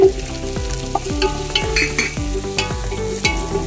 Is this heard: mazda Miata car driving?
no